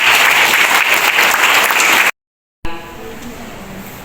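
A dense crowd clapping loudly and steadily, then an abrupt cut to silence, followed by faint room noise.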